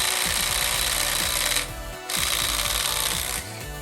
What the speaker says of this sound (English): This one actually did remove the lug nut. So a 1/4-inch drive Dewalt, very high quality piece here.